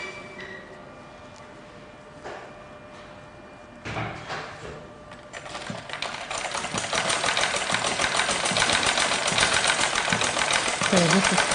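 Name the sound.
sewing machine stitching fabric next to an inserted rope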